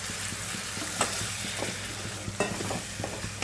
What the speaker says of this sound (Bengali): এবার এর মধ্যে দিয়ে দেবো অল্প করে একটু জল।